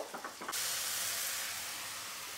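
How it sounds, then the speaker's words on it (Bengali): Onion and tomato frying together in a pan, a few soft clicks and then a sudden steady sizzling hiss that rises and holds, fairly quiet and with no voices. "তো টমেটোর সঙ্গেও আমি পেঁয়াজটা 2 থেকে 3 মিনিটের মতো ভেজে নিব"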